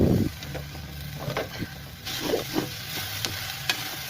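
Jackfruit fries in a pan for a curry, with a steady close sizzle and a series of scraping stirring strokes across the four seconds; no speech.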